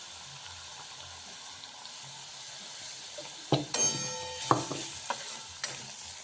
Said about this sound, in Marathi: त्याच्यामध्ये आपण मगाशी वाटण केलेलं आहे ते चांगलं भाजून घेऊया त्याच्यामध्ये तेलामध्ये